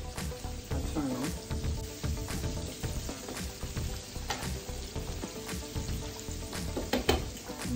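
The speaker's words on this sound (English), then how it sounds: "And just let them fry." Pork chops frying in a pan give a loud, steady close sizzle and crackle with some clatter of the pan. Faint background voices sit under the sizzle.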